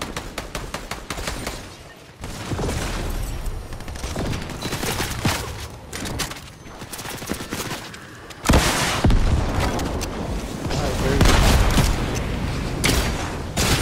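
Repeated shotgun blasts and other gunfire in a Fortnite match, sharp loud shots scattered throughout with heavy thuds and a louder burst of sustained firing in the second half.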